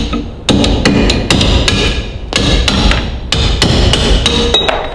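A hammer strikes a sharp chisel to cut bonded brake linings off a brake shoe from a Ferguson TEA20 tractor, producing loud, close metallic blows in quick uneven bursts with short pauses between groups.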